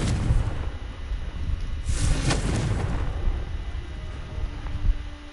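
A Confringo fire spell bursts in a Harry Potter video game, a sustained roaring, rumbling explosion with a sharp crackling flare in the middle, steady and fairly loud, with no talking.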